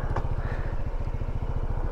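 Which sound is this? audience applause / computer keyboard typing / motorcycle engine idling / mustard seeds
motorcycle engine idling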